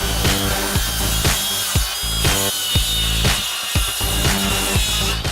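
A saw cuts straight across a row of wooden deck joist tails in one pass, giving a loud, continuous rasping buzz with regular rhythmic strokes throughout.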